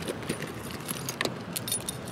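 A bunch of car keys jangles close by in steady, metallic rattling bursts for about two seconds, with faint car or road noise underneath.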